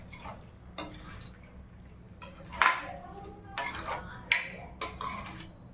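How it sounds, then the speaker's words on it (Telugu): A spoon stirs paneer butter masala with fresh coriander in a pan, giving repeated scraping, shuffling strokes with sharp metallic clinks against the pan, close and steady with a faint sizzle underneath and no voices. "సో ఇలా కలపాలి."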